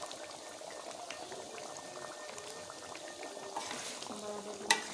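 Quail eggs simmer in sambal lado tanak, a coconut-milk chili sauce, giving a soft, steady bubbling close by, with a brief clink near the end.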